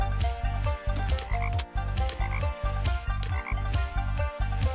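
Ninja Frog in a video game: a steady, rhythmic run of loud, low croaks repeating about twice a second, close and continuous, with sharp clicks overlaid and no talk.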